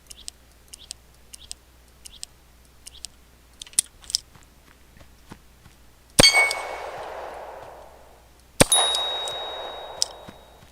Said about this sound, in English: We hit the bell.